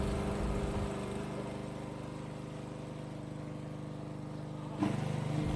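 Petrol engine of a wheeled radio-controlled grass cutter (VTW550-90) idling steadily after an electric start, a close, continuous even drone with a brief bump in level near the end.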